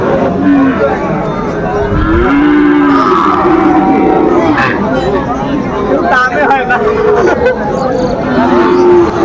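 A cow moos loudly and repeatedly amid crowd chatter and people talking nearby in a busy cattle market in Cumilla, Bangladesh, where Sahiwal bulls are sold.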